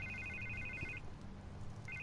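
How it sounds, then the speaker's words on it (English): A telephone rings in the video game Batman: The Telltale Series, with a repeated electronic ring tone in two bursts separated by a short pause over a low background hum. "I can't get the phone to stop ringing."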